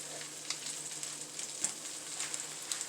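Stuffed French toast with peanut butter and banana cooks in a pan with a soft, even sizzle, joined by occasional light taps and scrapes of a utensil, with no talking.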